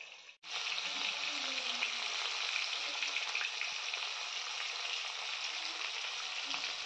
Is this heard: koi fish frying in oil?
yes